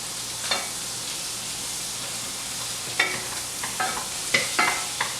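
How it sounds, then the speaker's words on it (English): Butter and marshmallows melting in a hot pot while being stirred, a steady soft sizzle under sharp, scattered scrapes of the spoon against the pot, close and without talk. "And then we're going to add the marshmallows and mix it all together."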